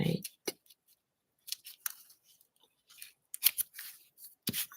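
Scissors snip through a postcard in a few short, crisp cuts spaced across the clip, close and fairly quiet, with a person talking between the cuts.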